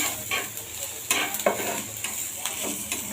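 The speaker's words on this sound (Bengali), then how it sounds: "এখন বেজে নিব পেঁয়াজটা এখন ভাজা হয়ে গেছে" Onions fry in oil while a spatula stirs them around the pan, giving a constant sizzle punctuated by repeated scraping knocks at an uneven pace, near and clear with no speech.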